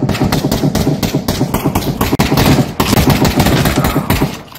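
Rapid automatic gunfire in the VR shooter Pavlov, a steady, loud stream of closely spaced shots that runs almost without a break.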